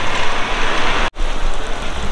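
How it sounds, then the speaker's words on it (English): Steady rain falling outdoors beside a parked motorhome near a pub, a dense, loud patter with a brief gap in the middle. "If it rains much heavier, we might have to go in that pub."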